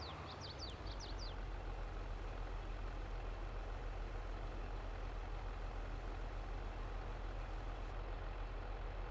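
A tractor engine idles in Farming Simulator 22 with a steady low throbbing drone, constant and moderately quiet, with a few brief chirps at the start.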